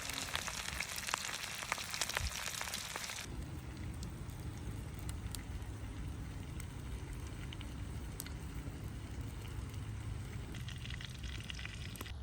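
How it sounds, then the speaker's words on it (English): Cheese-stuffed morel mushrooms frying slowly in lots of butter, a steady close crackling sizzle that carries on throughout, with a louder, brighter hiss at the start before it settles into a softer, even frying noise. "I slowly cooked them in lots of butter"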